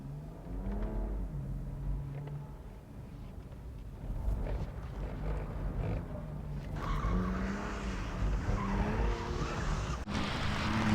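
A BMW M2 CS drifts on a track, its tires squealing in wavering, drawn-out howls over a steady engine roar, captured from a distance with varying intensity.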